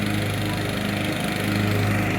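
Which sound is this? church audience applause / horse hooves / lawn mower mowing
lawn mower mowing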